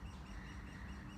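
Soft bird tweets drift through a park under a steady low rumble of traffic from a main road some distance away, the chirping faint and continuous with no speech.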